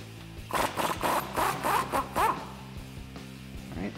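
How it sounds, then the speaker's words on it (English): A 21 mm socket on a ratchet wrench works a suspension bolt nut off a 2009-2018 Ram 1500 during a lift kit install, producing a close, rhythmic series of rasping ratchet strokes that trail off into quieter clicks. "I'm gonna use a 21 millimeter socket to get this guy off."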